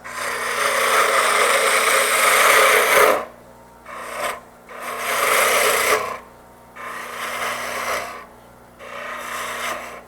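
Wood being turned on a lathe with a gouge, a loud, steady rasping scrape in three bursts separated by brief pauses, with a low motor hum continuing underneath.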